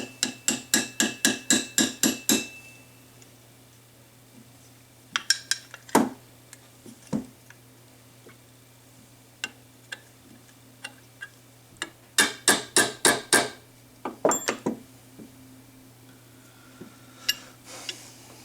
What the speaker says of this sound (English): get your little hammer and a punch, and just drive it home